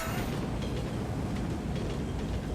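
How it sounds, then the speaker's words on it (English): A fast train in the Ninja Blade action game makes a loud, continuous roaring rumble with rattling texture and no pauses, and no one speaks. "We got another train."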